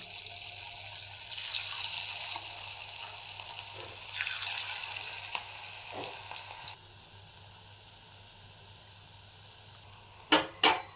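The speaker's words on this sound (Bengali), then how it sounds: "এইবার আমি পেঁয়াজ দিয়ে রাখা মূলোর মধ্যে সেই ফুলুরিগুলো একটু ভাজছি দেখুন" Fuluri fritters made with radish and onion sizzle in hot oil, a bright steady frying hiss for several seconds that then fades to a faint hum, followed by two sharp clatters near the end.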